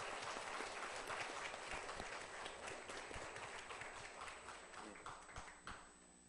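A church congregation claps together to encourage the choir members, a dense, sustained round of applause that gradually thins and fades toward the end.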